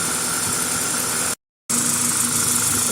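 A 2000 Toyota Celica GTS engine idling, a steady close hum and rumble with faint vibration, interrupted by a brief dropout of silence midway.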